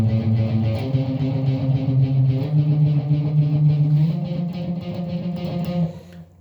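Quick triplet guitar strumming at a brisk practice tempo, loud and steady with dense repeated chord strokes throughout, trailing off at the end.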